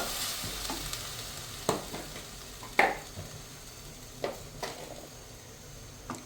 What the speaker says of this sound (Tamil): நல்லா டமாட்டோ நல்லா எண்ணெயிலே வணங்கட்டும், வதங்கி எண்ணெய் பிரியிற மட்டும் இருக்கட்டும்.